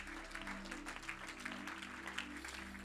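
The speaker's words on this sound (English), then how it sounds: "Why don't you just clap your hands unto the Lord one more time?" A church congregation claps their hands in steady, sustained applause, heard fairly faintly over a low organ or keyboard hum.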